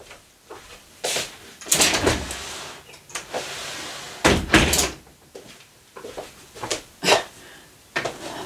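A door being opened for a cat indoors: several close clunks, scrapes and sliding knocks in uneven bursts, fairly loud against a quiet room with no talk.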